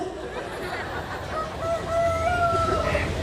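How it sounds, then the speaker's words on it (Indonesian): A rooster crows once in a drawn-out call, moderately distant, over a constant background hum and murmur during a religious lecture. "Itu suara ayam beneran atau handphone?"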